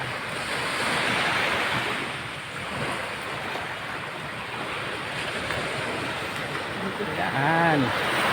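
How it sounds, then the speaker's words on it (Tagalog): Stormy sea waves wash and surge continuously, with wind buffeting the microphone and a brief distant engine-like tone near the end. "Yan na po yung dagat."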